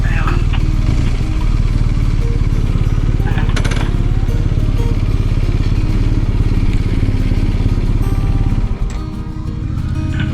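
A motorcycle engine idles loudly nearby with a steady throbbing rumble while being parked, then cuts out near the end.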